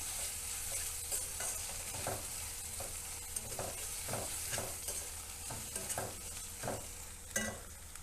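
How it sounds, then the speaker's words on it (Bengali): Ginger-garlic paste frying with reddened onions in a pan for masala paneer, a steady close sizzle with repeated scraping stirs of a spoon throughout, no voices. "আদাটা দিয়ে আর একটু হালকা করে লাল লাল করে নেব"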